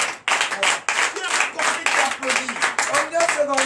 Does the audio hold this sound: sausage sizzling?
no